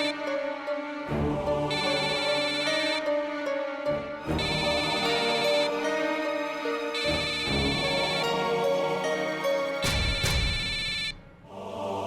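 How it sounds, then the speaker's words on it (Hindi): A phone ringtone plays a repeating electronic melody over and over, loud and close, with brief pauses between the phrases. "ये बलदेव का फोन क्यों आ रहा है?"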